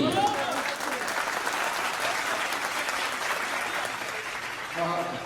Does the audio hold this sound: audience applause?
yes